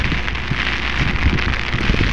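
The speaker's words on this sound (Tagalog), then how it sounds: "Lakas ng ulan." Heavy rain pours steadily on a rainy morning, a dense, loud and continuous hiss of drops striking surfaces close by, with no talk.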